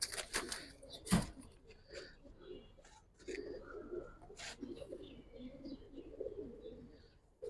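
Giribaz pigeons, a male and female among silver Giribaz birds, coo softly in a few low bursts, with scattered rustling and a sharp knock near the start.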